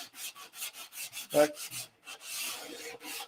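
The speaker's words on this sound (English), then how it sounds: "where I'm color sanding." Repeated rubbing strokes of fine-grit sandpaper color sanding the doped nose of a P-47 model airplane, a rhythmic series of close, short rasping passes with one brief spoken word.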